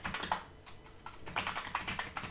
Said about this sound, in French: on va écrire sudo nano et on va changer le fichier host.apd